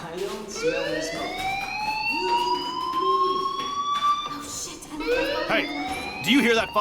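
Fire alarm in the video game Life Is Strange, a rising electronic wail sweeping up in long repeated tones with a second wail starting near the end, loud and steady over a murmur of background voices.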